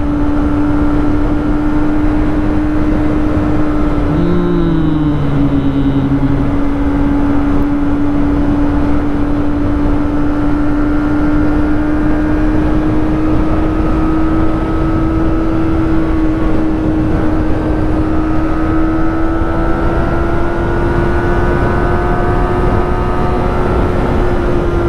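A Kawasaki ZX25R motorcycle hums steadily while being ridden, its engine drone rising slowly in pitch over wind rush, with a brief horn-like tone early on.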